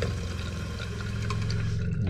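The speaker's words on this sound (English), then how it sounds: "You will hear the water pump running when the faucets are turned on." Water runs steadily from an RV bathroom faucet over a constant low mechanical hum of the RV water pump droning beneath the flow.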